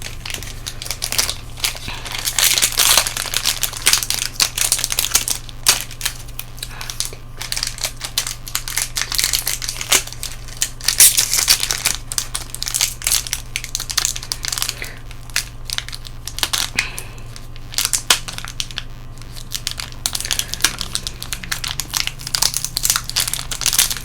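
Foil wrappers of Brother's War collector booster packs crinkle and crackle loudly up close as they are torn and pried open, a busy, nearly continuous rustling with only faint background hum.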